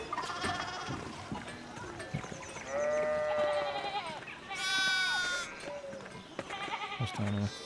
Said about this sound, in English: Sheep. Sheep is what's down there.